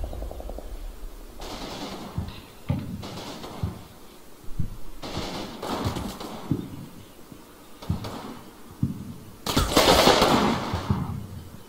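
Machine gun fire in the Combat Mission Red Thunder war game comes in several separate bursts, some distant and muffled and others sharper, with the longest and loudest near the end.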